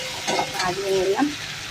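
Fish frying in a pan and being stirred, a close, brief scrape of a spatula over steady crackling oil.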